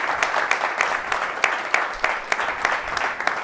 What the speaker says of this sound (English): if we can give Chip a round of applause for his time.